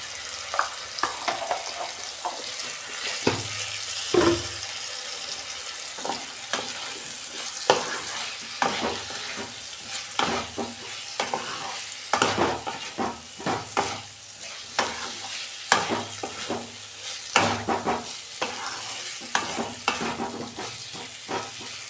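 A Kashmiri-style spiced potato curry with garam masala sizzles steadily in a pan, with frequent irregular scrapes and knocks of a spatula as it is stirred close up.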